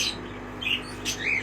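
Small pet birds in a bird shop, including cockatiels, give a few brief high chirps over a low steady hum.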